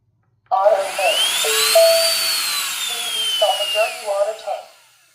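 A repaired Tineco Floor One S5 cordless wet-dry vacuum motor, freed from rust-stuck blades, whirs up to a steady high whine for several seconds, then cycles with a few pulsing tones before winding down, close and alone.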